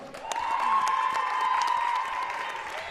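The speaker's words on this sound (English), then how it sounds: "please give a warm round of applause for Alyssa Leung" An audience applauds for a 1,000-point alum of the Baruch College women's basketball team, with steady moderate clapping spread through the stands of a gym, overlaid by an amplified voice or tone that runs throughout.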